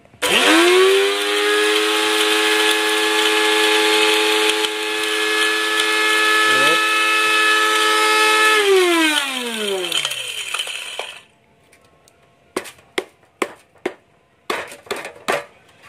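A grinder chewing through scrap electronics: a loud, steady high motor whine that holds for about ten seconds and then winds down, followed by several sharp rattling clatters.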